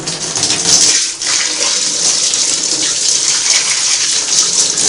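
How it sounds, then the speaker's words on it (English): A garden hose gushes water over the main body of a Singer Model 503A sewing machine in a condo bathtub, a loud, steady, close spray that splashes continuously throughout. "water from your garden hose onto a sewing machine"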